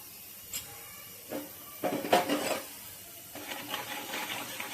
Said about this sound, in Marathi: कांदा लसूण मसाला लाल तिखट आणि अंडा गरम मसाला टाकून घेऊ आणि हलवून घेऊ व्यवस्थित त्याला